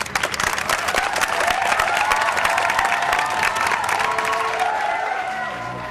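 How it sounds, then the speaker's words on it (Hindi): Large crowd claps and cheers loudly for Kanji Bhai, dense sustained applause with shouts mixed in, holding strong throughout before easing slightly at the end. "और ठोको ताली कांजी भाई के लिए"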